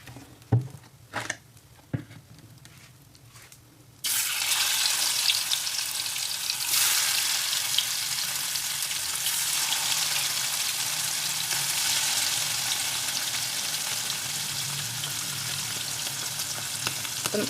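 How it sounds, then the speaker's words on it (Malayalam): Ribbonfish frying in coconut oil for a spicy Kerala-style fish dish; after a few soft handling sounds, a loud continuous sizzle bursts in and holds steady, close up with no talking. "ഇനി നമുക്കിതൊന്ന് ഫ്രൈ ആക്കി എടുക്കണം"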